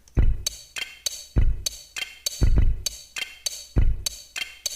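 A drum groove built from sampled Lego brick sounds, with compressor and reverb, repeats a steady pattern of booming low kicks and crisp clicky hits, punchy and close.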